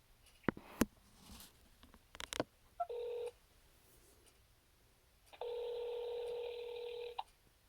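Telephone keypad touch tones during a phone call to an automated menu: a few clicks and handling noises, then a short beep and a longer held tone, close and clear, with no talking.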